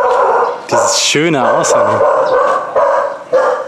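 A dog barks and yelps in a few sharp bursts beside someone speaking German outdoors, the barking loud and close, overlapping his talk.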